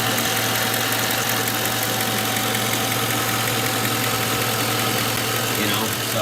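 A Ford Crown Victoria or Mercury Grand Marquis engine idles steadily with a constant low hum and a faint mechanical ticking, unchanging and fairly close throughout.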